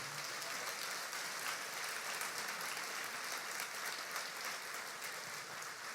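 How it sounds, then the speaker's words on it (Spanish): Church congregation clapping during a Spanish-language sermon, a steady, dense, even wash of applause that is fairly quiet and distant, with no voices. "dale un aplauso si lo vas a glorificar a Él"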